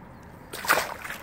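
A single quick splash of water, short and close, as a fish drops back into a fishing pond, with quiet background otherwise.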